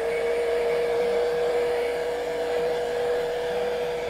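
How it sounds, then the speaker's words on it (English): A hair dryer blows steadily across a wet painting surface to dry it, a loud, constant whirring drone with a high whine that holds unchanged throughout, with no voices. "hit the surface with the hair dryer just to quickly dry this."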